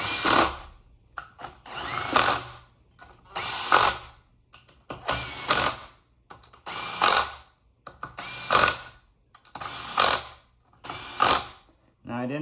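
A power tool tightens engine case bolts on a stator-side assembly in a star pattern, with about nine evenly spaced whirring bursts, each a second or so long, separated by short pauses.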